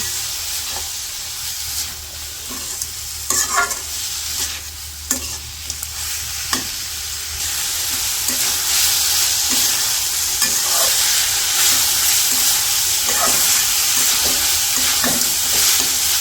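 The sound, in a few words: quail frying with ginger garlic paste, stirred in pan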